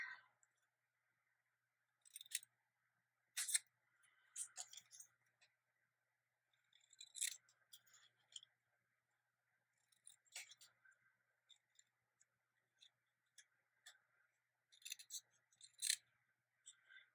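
Scissors snip through paper while a shape is cut out, irregular bursts of crisp close cuts separated by short pauses, with quiet stretches between.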